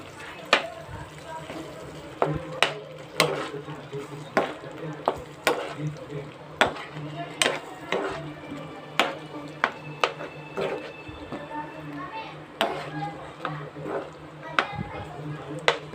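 Spoon scraping and clinking in a pan as paneer cubes are stirred into masala curry, irregular sharp taps over a low simmering hiss, with a person talking throughout.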